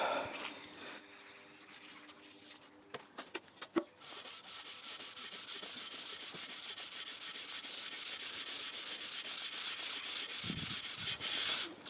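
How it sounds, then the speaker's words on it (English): Hand rubbing of an old engine block being readied for rebuild, a soft scratchy abrasive scrubbing that starts with a few scattered scrapes and knocks, then runs as continuous close strokes for several seconds before a brief pause and resumption. "We're going to give it another rub."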